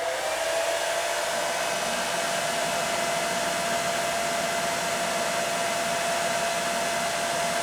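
A hair dryer running on warm heat and low fan speed, powered from a Bluetti EB70 LiFePO4 battery, giving a steady, even whoosh of blowing air with a faint whine, continuous and close.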